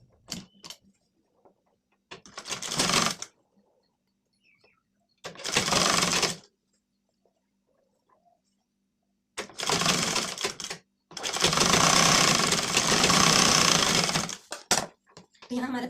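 Sewing machine running in bursts to stitch the side seam of a lined blouse, fast rattling stitches in several runs of one to three seconds separated by quiet pauses, with the longest run near the end.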